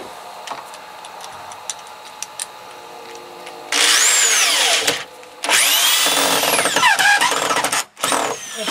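Power drill driving screws into a stud hanger during house addition framing: two loud, close bursts of whining motor that rise and fall in pitch, the second longer, after a stretch of quieter ticking.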